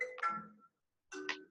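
A mobile phone ringing during a talk on stage, two short electronic ringtone bursts separated by a brief silence, clear and moderately faint.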